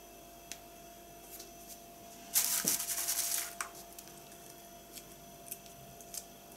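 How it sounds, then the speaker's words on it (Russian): Quiet, close snips of scissors and hands rustling through sea buckthorn berries being sorted, with scattered soft clicks and one denser burst of rubbing and crackling in the middle. "я тут не сколько ножницами, сколько руками орудую."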